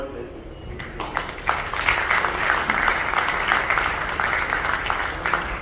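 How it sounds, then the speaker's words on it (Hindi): Audience applause at a cricket book launch event, a steady wash of clapping building after a brief quieter start and holding loud throughout, with some voices mixed in. "please give him a huge round of applause, ladies and gentlemen"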